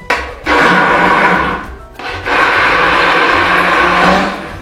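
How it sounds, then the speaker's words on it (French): A hand blender with a long shaft runs in a deep saucepan, whirring loudly as it purees food into a sauce, with a brief pause and restart midway. "on va maintenant les mixer pour faire une sauce"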